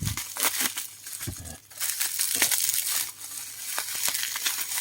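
Crinkly parcel packaging being torn open and unwrapped to reach a boxed set of Thai amulets, loud close crumpling and crushing bursts with short pauses between handfuls, no speech.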